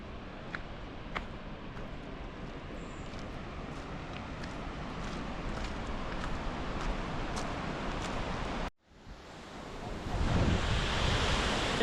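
Waterfall in the Albanian Alps, reached by a steep scramble, roaring as a steady broadband rush of falling water, loud and continuous, briefly cut off near the end before resuming even stronger.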